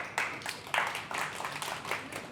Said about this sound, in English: That's probably an applause